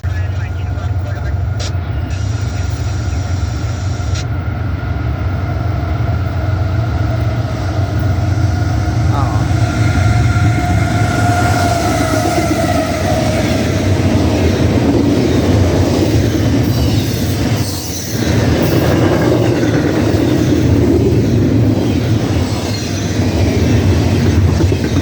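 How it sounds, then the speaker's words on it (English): Eastbound CSX intermodal freight train passing close by, a loud continuous rumble of rolling cars with clattering wheels and faint squeals throughout. "Next up, we have an eastbound CSX intermodal train."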